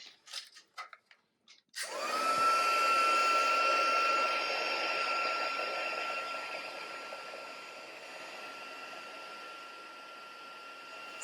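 Heat tool for melting embossing powder on a stamped card, starting after a few brief clicks, then a loud steady blowing whir with a faint whine that holds and fades slightly, close and alone without talking.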